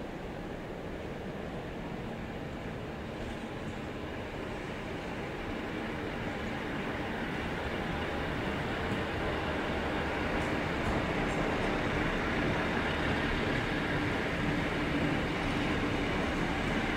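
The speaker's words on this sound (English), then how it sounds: "Departing platform 2, we have the Canberra Xplorer." The Canberra Xplorer train pulls out of platform 2 at Sydney Central Station, a steady, soft broadband rumble that swells slightly as it continues, heard from a distance with no talk.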